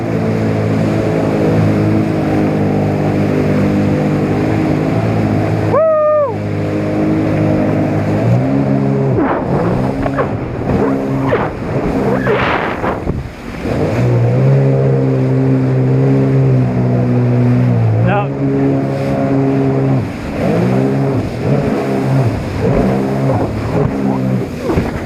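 Small Spark personal watercraft with a stock setup revs hard through repeated wheelies, its engine droning loud and close with rising and falling pitch, a splashy break in the middle, then surging again; brief voices and shouts mix in.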